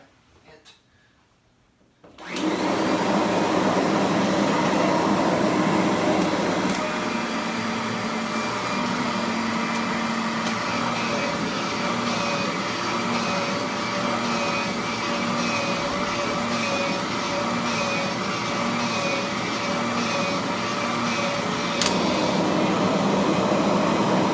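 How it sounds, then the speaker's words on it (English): A Kirby vacuum cleaner in hand-vacuum mode switches on after a brief quiet moment and runs steadily with a loud, continuous whine and motor roar. "so now it's in hand vacuum mode."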